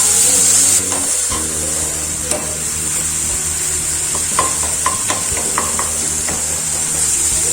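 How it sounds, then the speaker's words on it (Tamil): Onions and tomatoes sautéing in a pan for paneer butter masala, giving a continuous loud sizzle with a string of light clinks and scrapes from stirring. "இதையும் போட்டுட்டு நல்லா சாட்டே பண்ணிக்கலாம்"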